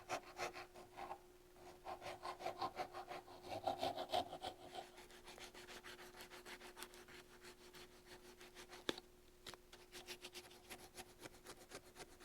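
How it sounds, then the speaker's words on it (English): A wooden piece held in a vise is shaped with a file and sandpaper, giving faint, steady rasping strokes in a quick rhythm with a few scattered taps, close by and quiet. "I'm just going to shape it with a file and sandpaper."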